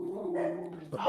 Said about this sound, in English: When they stop barking, that's the scary part.